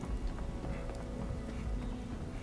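Heavy pouring rain in a Fallout 76 outdoor area near an orchard, a steady close wash of dense hiss with scattered patters, continuous and alone.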